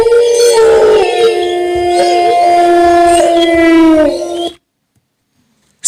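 A dog howls loudly and close, a long sustained wavering cry that breaks off abruptly into silence.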